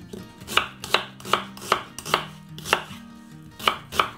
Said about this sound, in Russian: Мелким кубиком порежем лук.